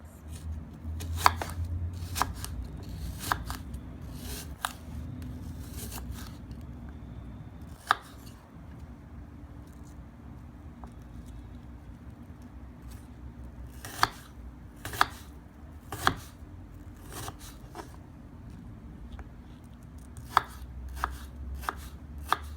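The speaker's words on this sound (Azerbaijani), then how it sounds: "Almanı doğrayandan sonra bir qabın içərisinə boşaldıram." A knife chops apple on a cutting board, cut into smallish elongated pieces, with sharp repeated knocks in uneven bursts and pauses over a low steady background hum, close and clear with no talking.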